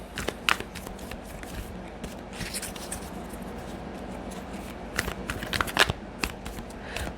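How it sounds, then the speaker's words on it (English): Oracle cards, an Arctic-themed deck, being shuffled by hand at close range: a steady soft riffling and sliding of card stock with sharper flicks and bursts near the start and again toward the end, no talking. "I'm shuffling the Arctic cards by Carolyn Meese"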